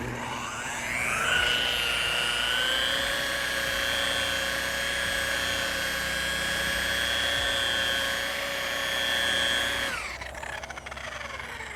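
A polishing machine whines at a high, steady pitch as it buffs out sanding scratches on a boat's hull, spinning up, holding constant for several seconds, then winding down.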